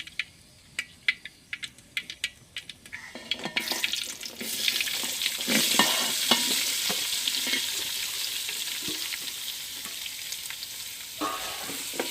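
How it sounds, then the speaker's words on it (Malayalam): Mustard seeds and dried red chillies crackle and sizzle in hot coconut oil in a home kitchen, starting with sparse pops, then building into a loud, dense, continuous spluttering that carries on steadily to the end. "വെളിച്ചെണ്ണ ഒന്ന് ചൂടാവട്ടെ അപ്പോൾ നമുക്ക് കടുവിട്ട് ഇട്ട് വറ്റൽ മുളകൊക്കെ ഇട്ട് പൊട്ടിക്കും"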